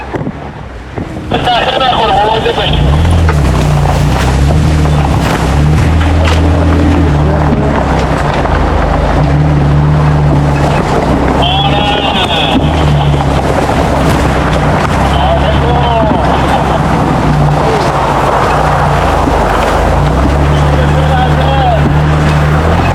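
A 4x4 vehicle creeps slowly through deep water in a narrow canyon in Iran, its engine droning steadily under splashing, sloshing water and gusty wind buffeting the microphone, with someone talking over it.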